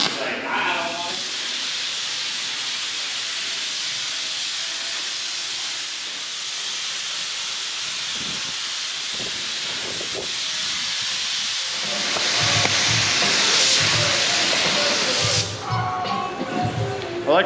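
Steady broadband hiss of a spray gun laying the first coat of primer on an OBS Ford truck, continuous and close for most of the stretch, growing louder near the end before cutting off.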